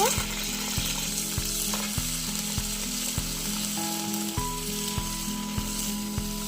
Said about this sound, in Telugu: ఆ తాలింపులో పీతలను అయితే వేస్తున్నానండి